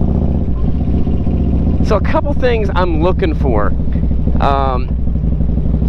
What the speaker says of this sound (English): These guys were nice enough to let me test drive this motorcycle.